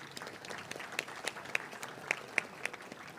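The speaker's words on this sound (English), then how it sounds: "Another round of applause for the senator" Light applause from an audience at an annual association event, honoring U.S. Senator Ben Cardin; a steady patter of clapping with a few sharper individual claps standing out, moderately faint and heard from a distance.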